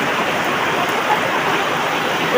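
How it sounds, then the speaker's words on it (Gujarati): Heavy rain pours down steadily over a bajra millet field, a dense, unbroken roar of rainfall at close range with no pauses and no voices. "સનસનાટ જોરદાર વરસાદ ભાઈ"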